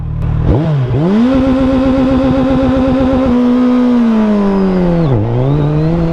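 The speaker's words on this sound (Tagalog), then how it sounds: "susubukan natin tong launch control. So hold natin tong start. Ayan, naka level 3, launch control, clutch, first gear." A 2024 Suzuki Hayabusa with dual exhaust launches in first gear on launch control, its engine held at a loud, steady high rev, then climbing and dropping before rising again, close and powerful.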